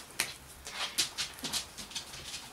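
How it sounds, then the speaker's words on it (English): A pet dog's footsteps, a quick series of soft, light clicks and taps on a hard floor, fairly close and steady for a few seconds with no talking. "if you can hear those footprints, that is my doggy Lexi Lou coming to see what I'm doing."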